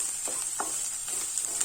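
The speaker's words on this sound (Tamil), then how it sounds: "பாருங்க, இப்ப நல்லா வதங்கிருச்சு வெங்காயம்." Onions and green chillies sauté in a pan for an egg curry, giving a soft steady sizzle with a few light scraping stirs of the spoon, fairly quiet and close, with no talking.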